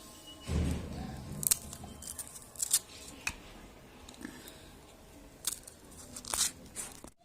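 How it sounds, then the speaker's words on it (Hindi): Green chilies slit with a blade for mixed pickle, a series of small sharp snips and crisp crunches close by, quiet and irregular, with faint room noise between cuts. "ऐसे ये हमने निशान काट लगा लिए।"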